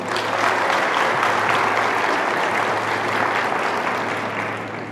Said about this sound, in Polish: Gorące oklaski